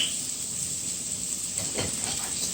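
Olive oil sizzles in a pan with a steady bright hiss that runs the whole time, and a few soft stirring or pouring touches come through midway; no talking.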